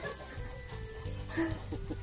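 Chickens on a farm cluck in short, scattered calls against a low, busy background, with no one talking.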